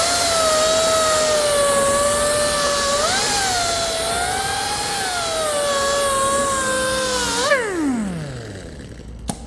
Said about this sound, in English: I'm just going to give it a final clean up with a wire wheel.